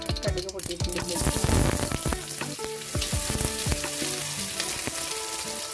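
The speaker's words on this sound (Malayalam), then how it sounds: "ഇതിൽ നമുക്ക് കടുക് പൊട്ടിക്കാം." A teaspoon of mustard seeds spluttering in hot oil while cooking drumstick leaves: rapid, irregular pops and crackles over a continuous sizzle, close and lively.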